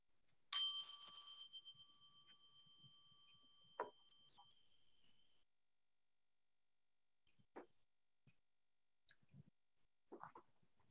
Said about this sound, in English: Let us enter into sacred space with the sound of this bell.